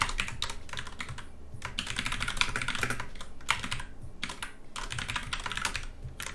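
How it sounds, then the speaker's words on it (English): Rapid typing on a computer keyboard, close and continuous, with dense bursts of key clicks separated by brief pauses, and no voice over it. "we'll decide it's quicker to just type it ourselves"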